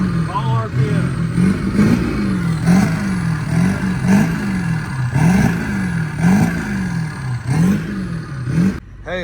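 A truck nicknamed Monsterstroke, its transmission failed, revs hard and repeatedly in a steady rhythm, about seven loud, close rises and falls of engine pitch before it cuts off near the end.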